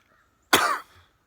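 A single sharp cough, close and fairly loud, bursts out of silence and trails off quickly.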